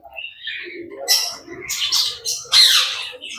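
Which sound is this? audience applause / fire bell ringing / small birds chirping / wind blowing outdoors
small birds chirping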